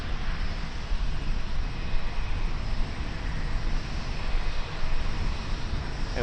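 An Air Chatham Saab 340 turboprop comes in at Auckland Airport, a steady broad engine roar holding level throughout, heard from some distance with no voices.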